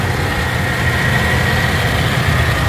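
A 1994 Toyota Kijang Grand Extra Long 1.5 idles close by, its engine giving a steady, even low rumble with a faint mechanical hum on top and no pauses.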